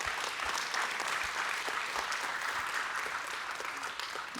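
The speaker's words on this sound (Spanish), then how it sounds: "Fuerte el aplauso para Sadie, por favor" A crowd claps steadily for a few seconds, a dense, even patter of applause at moderate volume with no voices standing out.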